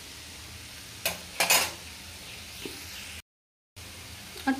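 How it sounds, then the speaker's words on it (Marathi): Minced chicken kheema is stirred in a pan over a faint sizzle, with a couple of sharp metal spatula clinks and scrapes against the pan and a short silent gap. "व्यवस्थित परतून घ्यायचं आहे।"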